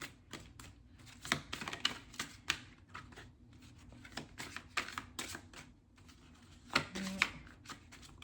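Playing cards are riffled and shuffled in quick bursts of soft flapping, close and quiet, with short pauses between.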